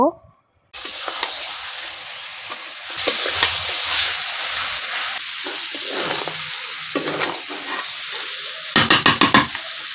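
Broiler chicken pieces with potato and pointed gourd hiss loudly in a pan of spice paste, a near, continuous sizzle under repeated stirring scrapes, ending in a quick burst of rhythmic scraping strokes.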